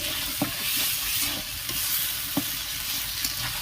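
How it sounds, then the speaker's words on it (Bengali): Spices sautéed in a pan with a splash of water give a continuous hiss and sputter, broken by sharp spoon knocks against the pan at irregular intervals, close and fairly quiet, no speech. "এটা আমি একটু সামান্য জল দিয়ে দিলাম, যাতে মশলাগুলো না পুড়ে যায়। এটা ভালো করে এবার কষে নেব"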